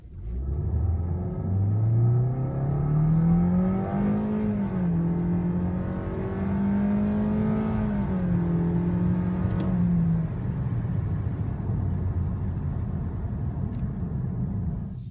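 A 2019 Toyota Corolla Hatchback accelerates from a standstill at half throttle, the engine note rising steadily in a drawn-out whine, levelling off, then climbing again before easing into a steady cruising hum, with no talk.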